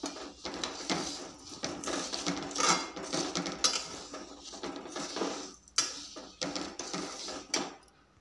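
A spoon scrapes and taps against a pan as sugar is stirred over a low gas flame, with irregular close clinks and rubbing strokes and no voices.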